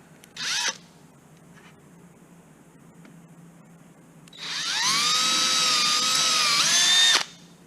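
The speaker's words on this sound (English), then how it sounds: "So I do have a number 30 reamer, and I'm gonna do that right now." A power drill spins a number 30 reamer through aircraft hinge brackets on an RV-14A vertical stabilizer build, with a short whine burst first, then a loud, steady high-pitched drilling whine for several seconds that stops abruptly.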